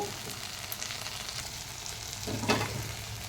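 Village-style curry sizzling and frying in oil in a pan, a constant close crackle with soft stirring scrapes and a brief louder burst of sizzle near the end.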